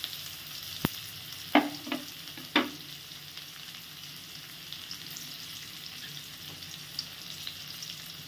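Chopped onion and chilli fry in a pan for chowmein, a steady soft sizzle broken by a few sharp stirring knocks near the start, with no talking.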